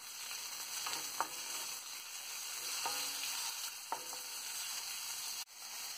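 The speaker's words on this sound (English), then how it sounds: "I am adding tomatoes and frying for some time." Tomatoes and onion fry in oil in a pan for a green apple sabji, producing a constant close sizzle with a few scraping stirs of a spoon.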